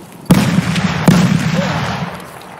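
A shotgun blast in Escape from Tarkov, two sharp loud booms about a second apart, each trailing off into a reverberant tail over low background noise.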